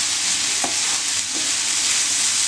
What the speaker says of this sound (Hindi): उन स्पाइसेस को बस अच्छे से मिक्स कर लेना है पनीर में।